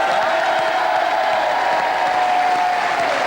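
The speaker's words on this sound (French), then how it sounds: "Je vous demande d'applaudir Églantine Émeillé et monsieur Julien Courbet" A TV studio audience applauds guests on a French evening show, a dense, loud and continuous wash of clapping with a little cheering that stays steady from start to finish.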